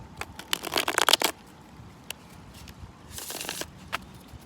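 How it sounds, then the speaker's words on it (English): Cards are shuffled in two quick riffling bursts, crisp and close, with a short quiet stretch and a faint tap between them. "2 more shuffles, please."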